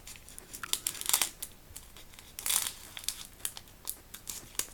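A sealed blind-bag packet from a Kamen Rider shikishi art set is shaken and crinkled up close, with continuous rustling and a few sharper crackling bursts.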